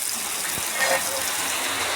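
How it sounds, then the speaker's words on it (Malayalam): Steady rain falls outside a home kitchen, a continuous broadband hiss with no breaks and a slight swell near the middle. "മഴ"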